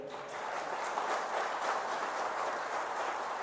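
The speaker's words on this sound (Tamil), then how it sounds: "நல்ல ஒரு கைத்தட்டு கொடுங்க." An audience at a Tamil political speaking event applauds, a dense, steady wash of clapping that holds at an even level throughout.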